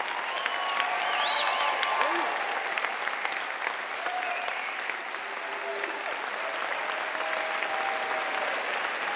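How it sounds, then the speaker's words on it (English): A large audience applauds students at the Chandler Unified School District Night of Recognition 2016, sustained dense clapping filling the hall throughout, loud and even with light cheering and murmuring voices mixed in. "How about one more round of applause for all these great students?"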